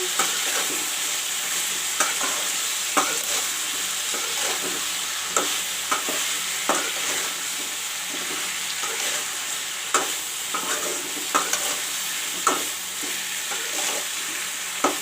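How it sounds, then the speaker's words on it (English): Chili powder being stirred into a drumstick curry frying in a pan, a steady sizzle broken by regular scraping strokes of a spoon roughly every second, close by and with no voices. "Put some chili powder. Mix it well."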